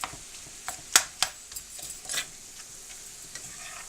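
Ground meat for lasagna being stirred in a hot pan, with a quiet sizzle broken by a few sharp scraping clicks of the spoon against the pan, close and brief.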